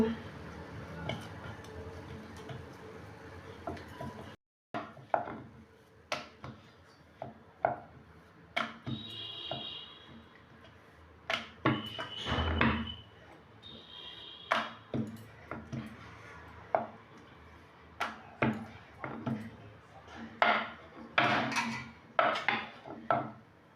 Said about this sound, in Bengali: এবার লেচিগুলোকে বেলে নেব